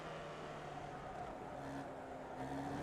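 A Formula Vee race car engine in the iRacing sim at Charlotte's Legends long track, a steady buzzing drone with rising pitch as the throttle opens, continuous and fairly close.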